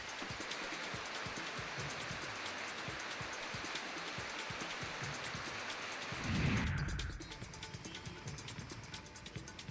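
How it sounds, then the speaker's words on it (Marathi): Steady pre-monsoon rain falls across a district in Maharashtra, a dense, even hiss throughout, with a brief low rumble swelling near the end before the downpour continues more quietly. "जिल्ह्याच्या बहुतांश भागात पावसाची रिपरिप आहे"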